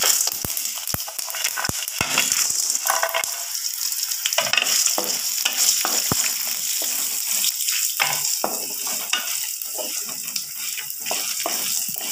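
Spice masala sizzles and crackles in oil for a mutton curry, a dense, loud, continuous frying hiss with sharp pops and stirring scrapes throughout.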